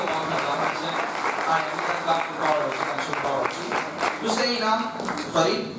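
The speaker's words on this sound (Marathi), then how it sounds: "टाळ्यांचा आवाज" An audience applauds at a school prize announcement, a steady wash of clapping across the clip with voices mixed in.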